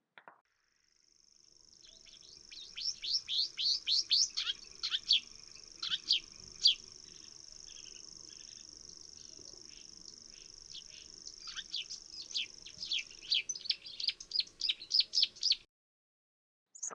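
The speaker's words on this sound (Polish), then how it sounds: "Łozówki" A marsh warbler sings in a meadow, pouring out rapid bursts of varied chirps and twitters over a steady, high insect-like hum, fairly faint and with no voices.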